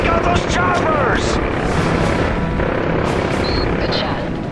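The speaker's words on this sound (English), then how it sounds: "Take out those choppers!" Helicopters roar in the Call of Duty: Modern Warfare 3 combat video game, a loud, dense rotor drone mixed with booming gunfire throughout, with a brief shouted voice near the start.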